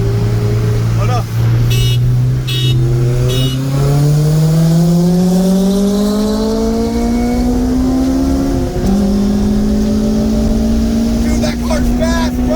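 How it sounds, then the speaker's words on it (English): A fast car accelerating hard on a mountain touge road late at night, its engine note climbing steadily through gears, loud and close, with people talking excitedly over it. "Dude, that car's fast, bro!"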